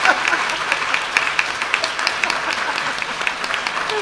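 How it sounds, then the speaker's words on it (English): Audience applause at a book launch, a steady wash of clapping from a crowd that holds an even level throughout, with a few sharper individual claps standing out and faint voices mixed in underneath. "So give me a hand of applause."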